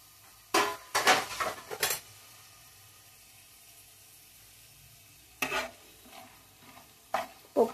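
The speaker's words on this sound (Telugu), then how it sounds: "పప్పు కాస్త వేగాలండి" Chana dal sizzling in a pan while being stirred with a spoon for a ridge gourd curry, bursts of scraping and clinking at the start and again near the end, with quiet frying between.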